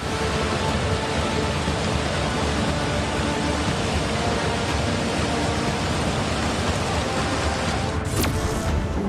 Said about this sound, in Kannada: ಹಿಮಾಚಲ ಪ್ರದೇಶದ ಮಂಡಿಯಲ್ಲಿ ನಿರಂತರ ಮಳೆಗೆ ಬಿಯಾಸ್ ನದಿ ಉಗ್ರರೂಪ ತಾಳಿದ್ದು, ನೀರಿನ ಮಟ್ಟ ಕ್ಷಣ ಕ್ಷಣಕ್ಕೂ ಏರಿಕೆಯಾಗುತ್ತಿದೆ